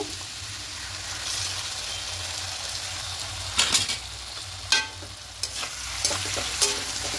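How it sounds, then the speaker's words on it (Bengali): Spice paste for a vegetarian papaya curry stir-fries in a pan with a low continuous sizzle, broken by a few sharp scraping stirs of a spatula against the metal. "একটু ভালো করে কষিয়ে নেব"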